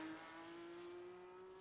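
Cup car engine in the iRacing sim, a steady droning tone with a single sustained pitch that rises slightly, heard briefly and fairly quietly on its own.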